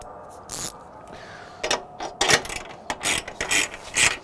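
Ratchet clicks from a crank mechanism come in quick bursts, some louder than others, with short pauses between runs of clicking.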